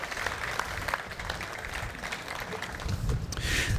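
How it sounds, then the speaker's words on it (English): Applause from an audience at a Long Beach Airport lobby opening ceremony, a steady patter of clapping heard at moderate distance for several seconds. "Let's give them a big round of applause"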